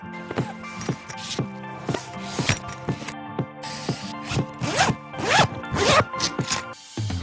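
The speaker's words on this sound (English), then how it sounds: "Both the backpack and the travel pack are made with strong, waterproof zippers and tarpaulin material" Strong waterproof zippers on tarpaulin backpacks are pulled open and shut repeatedly, a series of close, sharp rasping zips with brief pauses between strokes and no talking.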